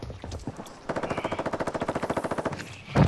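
Call of Duty machine gun fire rattles out in a rapid, evenly spaced burst of about two seconds, moderately loud, followed by a heavier thump at the end.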